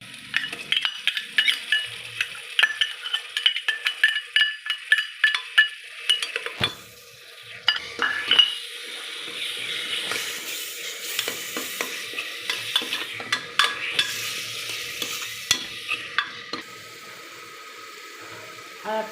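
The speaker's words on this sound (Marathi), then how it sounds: "आता ह्यातमध्ये ना हे वाटण टाकते मी, म्हणजे हे पण चांगलं तेलामध्ये फ्राय होईल." A ground wet spice paste fries in oil for a pigeon pea lentil curry, with continuous close sizzling and repeated spoon scrapes and clinks against the pan, busy and steady throughout with no voices.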